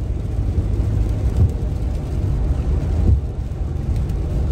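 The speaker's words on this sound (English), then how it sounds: "it's raining here too" Steady rain heard from inside a car driving on a back road in Louisiana, a dense continuous wash of patter mixed with low road rumble, loud and unbroken with no talk.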